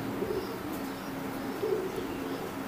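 Imported Omani teddy pigeons coo softly in a short, faint stretch, a couple of low rolling calls over a quiet background hiss.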